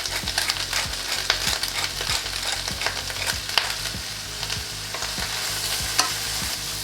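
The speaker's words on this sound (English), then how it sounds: "we're going to saute everything first. Onion, garlic, and the apple nicely done" Onion, garlic and apple sautéing in olive oil with salt and pepper for a pork rib stew: a dense close sizzle with rhythmic spoon scrapes against the pot roughly every half second, no voices.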